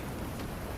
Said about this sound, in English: The rain moved against the glass in its steady, untroubled way.